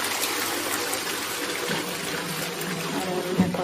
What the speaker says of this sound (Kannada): ಈಗ ನೋಡಿ, ನಾನು ಫ್ಲಶ್ ಮಾಡ್ತಾ ಇದ್ದೀನಿ.